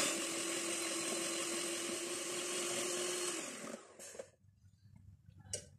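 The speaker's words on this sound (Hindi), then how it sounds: "पहला अंडा डालेंगे और इसको बीट कर लेते हैं।" An electric beater whirs steadily as egg is beaten into sugar and oil for cake batter, then cuts out partway through, leaving a few faint knocks and scrapes.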